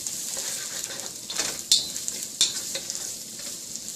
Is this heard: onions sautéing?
yes